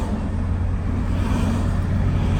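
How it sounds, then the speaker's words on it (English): Steady roadside traffic noise, with cars and big trucks rumbling past loudly and continuously on a nearby road. "Sorry the cars make a lot of noise"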